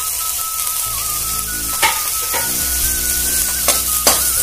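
Chopped carrot fries in a pan for bread upma, a steady close sizzle running throughout, broken by several sharp clinks and scrapes of a spoon stirring against the pan.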